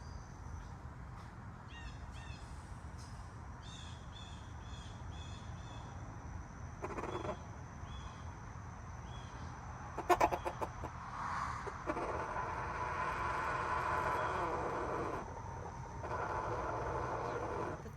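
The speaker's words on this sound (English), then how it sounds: "a flock of crows flew over, giving a warning call that sent my flock into its own warning" Chickens in a backyard flock break into clucking alarm calls as a passing flock of crows calls overhead, repeated bird calls rising over steady outdoor background noise, busiest in the second half.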